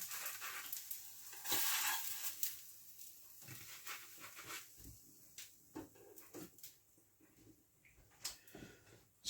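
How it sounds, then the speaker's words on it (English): Fish cakes frying in a pan, a soft, steady sizzle with scattered pops and crackles, quiet and close, along with a few small clinks. "I'll fry off the remaining ones"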